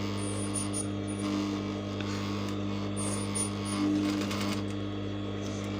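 Sewing machine with a zipper foot stitching piping cord, a steady close whirring drone with a constant hum throughout, running continuously without pause.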